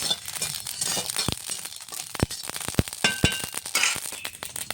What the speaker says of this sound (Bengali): দেখো সর্ষেটা চটচট করে ফুটছে।